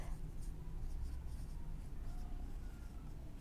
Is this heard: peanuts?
no